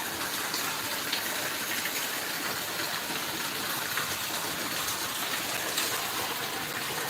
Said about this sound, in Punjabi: ਕਿਸਾਨਾਂ ਵੀਰਾਂ ਲਈ ਬਹੁਤ ਵਧੀਆ ਮੀਂਹ